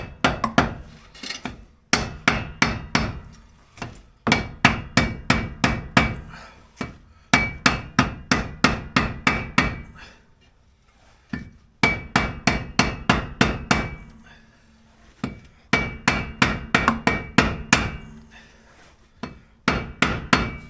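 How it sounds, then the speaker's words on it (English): Rapid bursts of sharp lead hammer blows on metal, struck in quick runs of about a dozen hits with brief pauses between, loud and close, while fitting front air ride bags to a 1962 Oldsmobile. "I've got our hammer action here, lead hammer."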